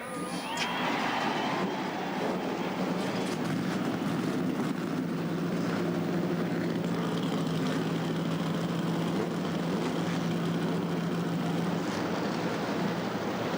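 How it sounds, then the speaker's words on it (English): Massed stock car engines fire up at the start of the 1982 Daytona 500 at Daytona International Speedway, a loud, sustained rumbling roar with a steady droning tone that carries unbroken from start to finish. "The engines begin to rumble."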